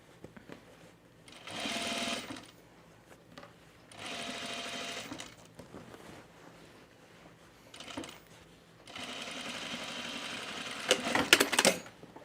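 A sewing machine runs in several short bursts, stitching a blazer seam, each run a steady close whir separated by brief pauses, with small clicks and rattles near the final burst.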